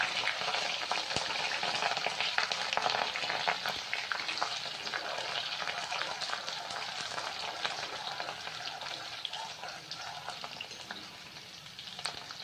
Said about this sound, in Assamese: অলৰেডি তেলখিনি গৰম হৈছে, মই পিঁয়াজখিনি এতিয়া দি দিম